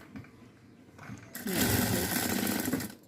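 A sewing machine runs while stitching a blouse, starting as a quieter hum and then picking up into a loud, steady, fast whirring run for the last half of the clip, with no talk.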